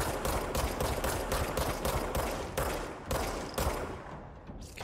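Gunfire in the video game Control, a rapid string of loud, close shots in steady bursts that thin out toward the end with no talking.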